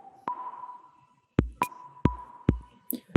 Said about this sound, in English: Here we have the underlying drum groove.